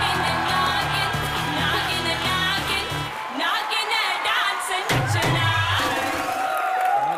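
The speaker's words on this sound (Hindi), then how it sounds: "रवि किशन और तुषार कपूर के लिए जोरदार तालियां।" A television comedy studio audience cheers and claps for guests Ravi Kishan and Tusshar Kapoor on Comedy Nights with Kapil, loud crowd noise over music, dropping briefly before whoops and clapping surge again.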